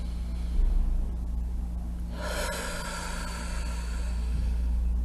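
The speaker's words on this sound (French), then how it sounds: "Prends une grande respiration." A single deep breath drawn in during a guided relaxation exercise, a broad airy rush rising midway and then sustained, heard alone over a low background hum.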